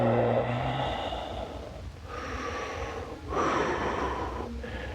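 Breathing held through a yoga pose, a few airy, breathy inhales and exhales close to the mic over a low steady background hum, with no talking.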